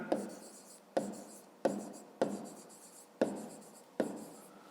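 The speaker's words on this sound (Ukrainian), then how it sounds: "Записуємо тоді периметр" A pen writes on paper during a fifth-grade maths lesson, in six short strokes at a steady rhythm. Each stroke starts with a tap and fades as it scratches across the page. It is close, quiet and dry, with no talk.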